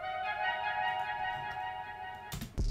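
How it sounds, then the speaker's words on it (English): A short melodic run from a one-shot sample kit: sustained harmonic tones layered and held steady, ending with a brief percussive thump, playing alone at modest volume. "Then I added this little run from Bass One and Pilgrim's One Shot Kit."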